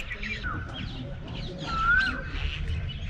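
Birds call outdoors in India, with a couple of thin, whistled chirps rising over a busy low rumble of ambient crowd and traffic noise, fairly faint and somewhat distant.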